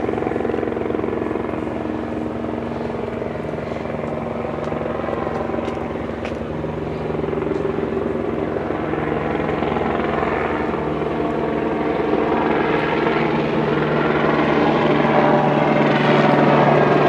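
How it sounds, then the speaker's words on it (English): A helicopter's rotor drone thrums steadily, with a low beating hum that grows slightly louder toward the end as it draws nearer. "Helicopter approaching."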